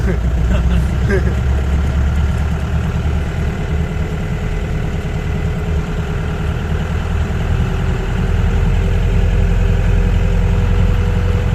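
A safari jeep engine drones steadily and loudly from inside the moving vehicle, a continuous low rumble throughout with voices talking over it.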